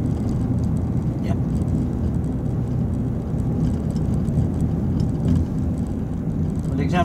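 A car drives along a road during a driving lesson, with a steady, loud engine and road rumble filling the cabin throughout, and faint clicks over it.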